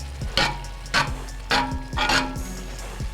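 Vegetables and cream cheese cook down in a pan, with a steady low sizzle broken by a rhythmic series of about six scraping stirs, each a short swishing burst, close and clear with no talking.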